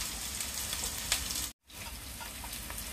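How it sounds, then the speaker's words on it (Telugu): Onions and green chillies fry in four spoons of oil for a country chicken curry, a steady close crackling sizzle that cuts out briefly midway, then resumes. "పచ్చిమిర్చి ఉల్లిగడ్డ కూలాలి బాగా"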